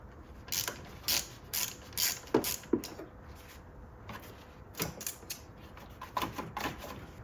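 A wrench loosens the negative battery terminal on a Nissan Versa, making short bursts of metallic ratcheting clicks and clanks in irregular clusters, fairly quiet and close, with no speech.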